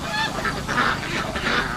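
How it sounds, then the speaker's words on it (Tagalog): Ducks released into a rice paddy quack and honk in a busy, overlapping flock chorus, fairly close and steady throughout with no talking. "pinalabas namin yung itik, pati insekto yan kinakain ng itik"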